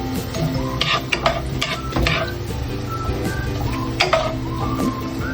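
A utensil scrapes and taps against a pan as onions are stirred for tinolang manok, the clinks and scrapes coming in irregular bursts over a steady low hum, close and moderately loud.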